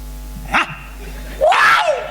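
A dog barks twice, a short bark followed by a longer, louder yelping bark, close by over a low steady hum.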